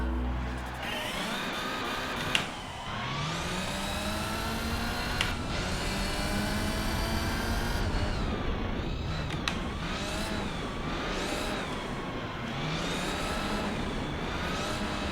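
A racing car engine in Gran Turismo 4 screams through rising gear shifts, revving up and dropping between changes, loud and continuous with a synthetic game-like tone.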